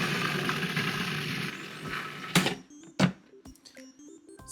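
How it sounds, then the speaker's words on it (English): A food processor blends cottage cheese into a smooth purée: a steady, dense motor whir for about two seconds, then it stops, followed by a few sharp clunks and taps as the machine settles. "in my food processor, I already have 3/4 of a cup of cottage cheese. I'm gonna go ahead and blend that up until it's smooth"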